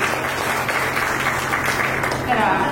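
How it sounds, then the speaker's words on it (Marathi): Audience applause at a ceremony: a dense, even wash of many hands clapping, held steady and fairly loud for the whole stretch. "यांच्यासाठी सुद्धा जोरात टाळ्या होऊन जाऊ दे"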